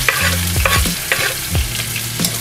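Onion and garlic sautéing in oil in a pan, a loud close sizzle broken by repeated scraping strokes of a spatula stirring, with no talking.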